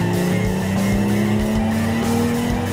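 Loud Porsche 911 GT3 RS engine with a rising whine as tires squeal under hard braking, close and continuous for a few seconds.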